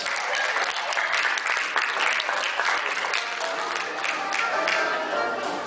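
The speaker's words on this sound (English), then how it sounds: "Let's give another round of applause." Sustained applause from an audience, dense clapping at an even level throughout without a pause.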